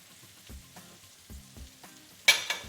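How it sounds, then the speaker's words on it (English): Mushrooms cook in a pan of sauce with a soft, low sizzle punctuated by several dull stirring knocks against the pan, then a sharp hiss near the end. "you want the mushrooms to cook in for maybe about 2 minutes, then that sauce is gonna be done"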